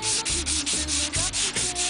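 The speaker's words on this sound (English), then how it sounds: "Simply sand until all of the marks from your guide coat are gone." Hand sanding a 1940 Chevrolet truck body panel with guide coat gives close, steady back-and-forth rasping strokes in a quick even rhythm, about eight strokes in under two seconds, with no voices.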